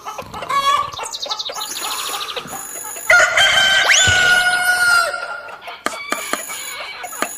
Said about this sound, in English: By 100 hens, what's all this noise?